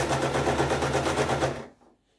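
Sewing machine running a fast stitch through a crinoline peplum, a dense, even mechanical whirr close by that runs steadily for about a second and a half, then cuts off to near silence.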